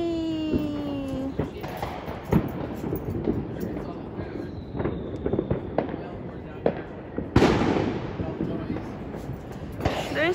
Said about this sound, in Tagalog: Mostly fireworks na noise